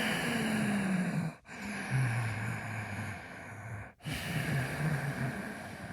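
Ujjayi breathing with mouth closed and throat tightened, two long hoarse, whooshing breaths separated by brief pauses, close and steady with a raspy, Darth Vader-like texture.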